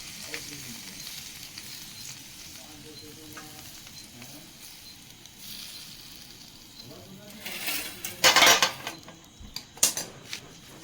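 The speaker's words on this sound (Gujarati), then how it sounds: "અને હલાવી નાખ્યું." Patra being stirred in a pan during cooking, with soft frying sizzle and utensil scraping, then a burst of louder clattering spoon-on-pan strokes near the end, close by.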